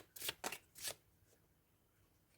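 Three quick riffling bursts of tarot cards being shuffled, crisp and close, then quiet.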